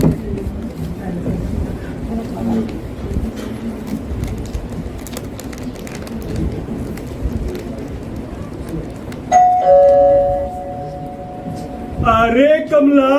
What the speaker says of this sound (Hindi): अरे देख ले दरवाजे की घंटी बज रही है